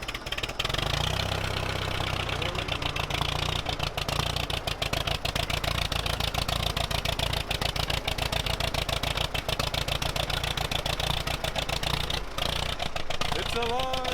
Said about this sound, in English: Now that that's on, I'm going to try and start it.